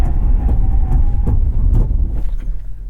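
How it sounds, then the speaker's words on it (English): A 2021 Infiniti QX80 SUV braking hard from 60 mph to a stop, heard from inside as loud low road and tire rumble that eases off as the vehicle slows, with a few soft thumps. "Do a 60 to 0 braking stop."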